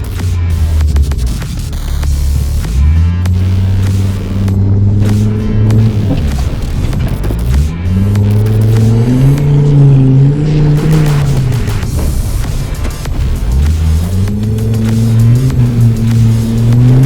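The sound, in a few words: Volvo off-road car engine revving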